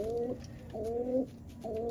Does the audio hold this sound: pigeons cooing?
yes